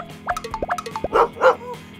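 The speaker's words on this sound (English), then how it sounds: "Giant puppy." A giant puppy in a children's story gives a string of short, bright yips and bow-wow barks, loud and close, followed by two longer whiny, drawn-out calls, with no talking over it.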